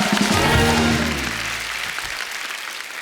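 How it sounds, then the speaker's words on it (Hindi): Studio audience on a televised Hindi comedy talk show bursts into loud applause, with music-like tones underneath at first, then a steady wash of clapping that fades slightly toward the end. "जोरदार तालियां कंगना के लिए।"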